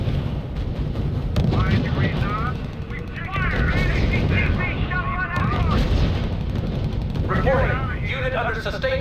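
Battle sounds from the strategy video game R.U.S.E: repeated booming artillery and bursts of gunfire fill the scene, mixed with radio-style unit voice reports talking over the explosions.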